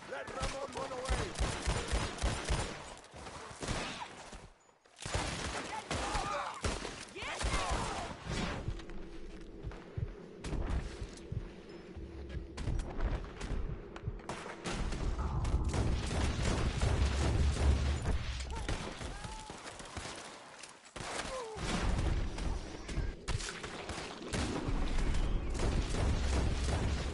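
Heavy artillery and gunfire in a Red Dead Redemption 2 battle, with rapid cracking volleys and deep booming blasts that roll on almost without pause, loud and dense, while a voice talks over the din.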